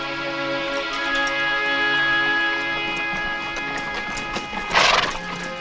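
Horses whinny and neigh in long tonal calls over clip-clopping hooves, close and loud, with a sharp burst of noise near the end.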